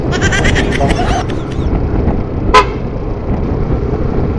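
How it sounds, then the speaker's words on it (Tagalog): A newly installed Pia car horn sounds in a series of quick, bright toots over steady road and engine noise, followed by a single sharp click. "At salamat ka pala sa aking busina, bagong busina."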